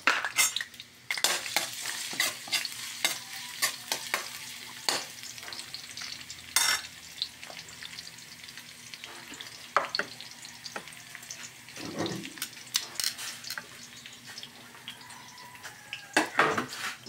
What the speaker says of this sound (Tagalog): Konti lang muna ng mantika. Nagsibuyas.